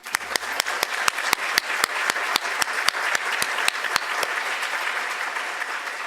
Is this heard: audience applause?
yes